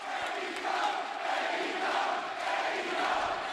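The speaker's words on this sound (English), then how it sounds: "he got the crowd to chant AEW" A wrestling arena crowd chants AEW during a promo, a steady, distant roar of many voices in a broad, sustained wash without clear breaks.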